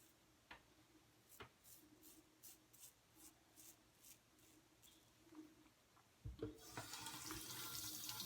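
Running tap water rinsing a small straight razor blade, a steady faucet stream that swells loudly near the end after quieter dripping and light ticks, with faint bird calls in the background.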